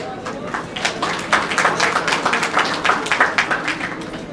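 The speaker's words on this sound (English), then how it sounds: "Please welcome them with a huge round of applause" An alumni meet audience gives a huge round of applause to welcome girls to the stage for a skit, a dense, steady roar of many hands clapping close by, holding throughout with a murmur of voices mixed in.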